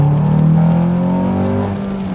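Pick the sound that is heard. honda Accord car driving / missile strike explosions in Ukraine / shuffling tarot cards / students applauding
honda Accord car driving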